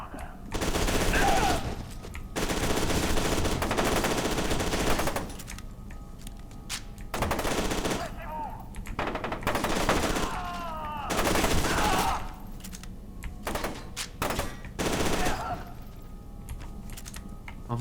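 Rapid gunfire bursts in the shooter game F.E.A.R. 2: Project Origin, loud sustained volleys alternating with short pauses, mixed with keyboard clatter and some game noise.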